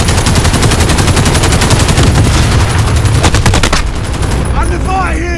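Rapid automatic gunfire from the Call of Duty Modern Warfare Spec Ops video game, loud dense bursts rattling continuously for several seconds before easing off, with faint game voices underneath.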